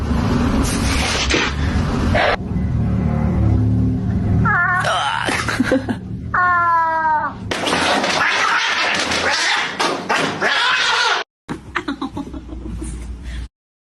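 A cat yowls and meows in drawn-out, wavering cries amid loud, chaotic scuffling and noise, with bursts of human voices and laughter mixed in.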